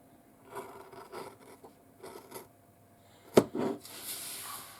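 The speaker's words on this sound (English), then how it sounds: "I'm using scissors because I don't want to have the rotary cutter go too far." Scissors snip the corners off fabric pieces for a sewn bag, a few soft scattered cuts followed by one sharper, louder snip and some rustling.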